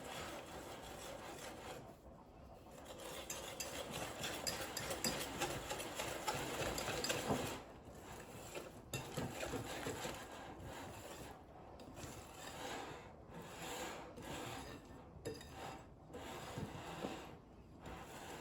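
Madeleine batter made with melted butter is stirred by hand: a quiet, continuous scraping and rubbing with rhythmic strokes and brief pauses.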